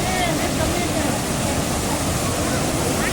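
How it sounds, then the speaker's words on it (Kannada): A waterfall near Kallathigiri temple roars with forceful rushing water, a loud, dense, unbroken wash close by, with faint voices in the background. "ಎಷ್ಟು ಜೋರಾಗಿ ನೀರು ಬರ್ತಿದೆ ನೋಡಿ ಅಮ್ಮ"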